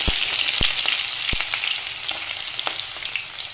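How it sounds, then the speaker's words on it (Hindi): Onions frying in hot oil in a non-stick pan, a loud, close, steady sizzle with a few sharp pops and stirring knocks and no talking. "अब हम इसमें डालेंगे प्याज को और उसको गोल्डन ब्राउन करेंगे"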